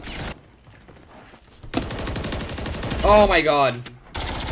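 Gunfire in the shooter game Warzone: sharp volleys of shots crackle in loud bursts after a quiet opening, with a voice exclaiming over the shooting.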